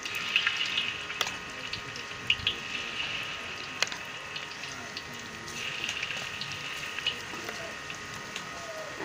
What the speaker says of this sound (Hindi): पकौड़े हमने इसमें डाल दिए हैं।